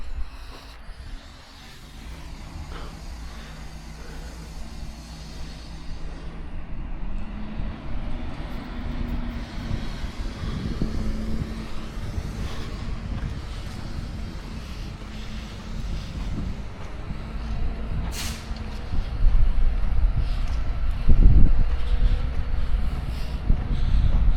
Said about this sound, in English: this truck down here and dump it.